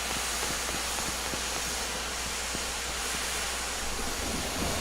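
A train in the Bertram Fiddle adventure video game gives a steady, close rumble with a constant low drone and broad hiss, carrying on evenly throughout with no talking.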